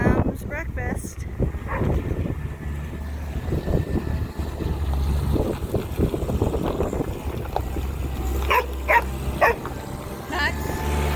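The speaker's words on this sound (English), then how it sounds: "I don't know why Max has to bark all the time when machinery's going." A farm dog barks repeatedly in short bursts over steady rumbling farm machinery, with wind noise and people talking nearby on a sheep farm.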